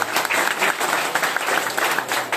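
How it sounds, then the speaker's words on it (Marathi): A crowd at a Navratri festival Home Minister game show claps loudly and steadily, a dense, continuous burst of applause filling the hall close by for the whole stretch. "एकदा जोरदार टाळ्या होऊन जाऊ दे"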